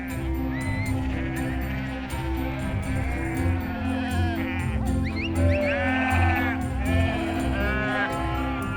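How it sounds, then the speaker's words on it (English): Sheep bleating repeatedly outdoors on an Irish mountainside, several overlapping calls near and far above a steady, low drone of background sound. "The sheep stay out on the mountain even in winter."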